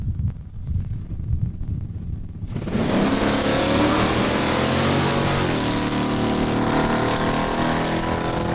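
A 1970 Plymouth Duster drag car launches on a quarter-mile pass at a raceway, a sudden loud engine roar that kicks in after a quieter idle and holds at a steady high drone through the run.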